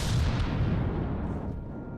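Guns firing high-explosive warheads in the video game From the Depths give a dense, steady rumble of heavy blasts that stays loud throughout with no break.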